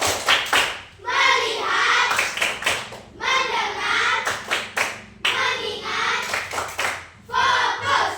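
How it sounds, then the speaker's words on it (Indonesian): Students in a classroom perform the 'tepuk bagus' clapping chant, repeated bursts of rhythmic group clapping interleaved with loud unison chanting voices. "Tepuk bagus."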